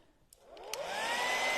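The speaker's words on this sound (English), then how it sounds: "I'm going to grab my hairdryer and dry that off for a second." A hair dryer switches on and spins up over about a second into a loud, steady whooshing roar as it blows on wet paint on a stenciled sign, with no talking.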